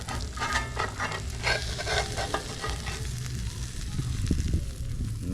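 A flipped mutton snapper fillet frying in a pan, with loud, continuous crackling and sputtering close up and a few soft scraping touches toward the end.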